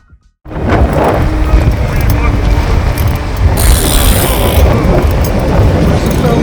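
Strong wind on Ayr beach in Scotland buffets the microphone in a loud, continuous rumbling roar that starts abruptly and holds steady, with gusts swelling toward the end.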